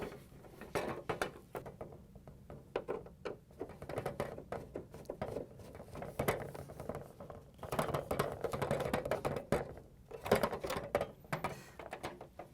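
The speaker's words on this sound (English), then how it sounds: "We're going to use a Phillips screwdriver to remove these two screws." Phillips screwdriver backing screws out of the housing of a Frigidaire/Electrolux ice auger, model 241716101: close, irregular small clicks, scrapes and metallic ticks in scattered bursts, with no talking.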